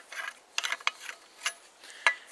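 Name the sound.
unscrewing head of Horizons Tec survival shovel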